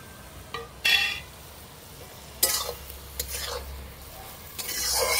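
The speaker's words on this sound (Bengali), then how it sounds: "দিয়ে সবকে একেবারে একটু মিশিয়ে নিচ্ছি" Shrimp and pumpkin curry with grated coconut and chili being stirred in a pan, with several scraping spoon strokes and light clinks over a soft background sizzle, no talking.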